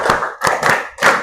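A classroom of students claps a rhythmic pattern in unison, three close, loud bursts of hand claps with brief gaps between them.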